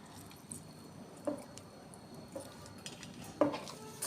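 A mixed chavanu snack with coriander leaves and lemon juice is stirred in a bowl, making quiet crunchy rustles and a few sharper clinks of a spoon against the dish, with no voices.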